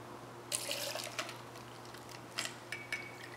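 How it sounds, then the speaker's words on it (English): Malahat bourbon is poured into a cocktail shaker in a short, quiet splashing pour, followed by a few soft, separate drips. "we're going to start with the bourbon"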